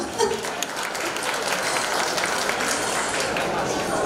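Steady, dense applause from a crowd at a charity gala, a continuous wash of clapping at an even level throughout.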